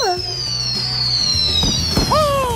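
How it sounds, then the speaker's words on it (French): Fireworks go off at a festive celebration, with high whistles that glide downward, crackling pops and a sharp bang, all loud and close in a busy mix. "Des vrais feux d'artifice. Comme à la fête."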